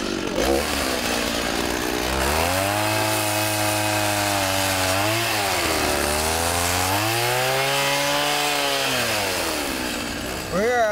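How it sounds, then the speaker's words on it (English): A chainsaw runs across the street on Main Street during the Sundance Film Festival in 2010. Its engine drones loudly and steadily for about ten seconds, the revs rising and falling in slow swells. "I did say peace is a chainsaw going right across the street"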